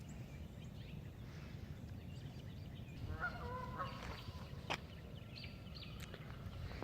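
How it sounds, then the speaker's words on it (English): A few geese honk outdoors at a moderate distance, their nasal calls clustering midway through over a constant rushing background of wind or water. "Those geese are loud."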